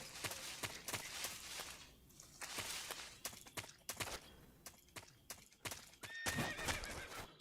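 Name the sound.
horse neighing in a video game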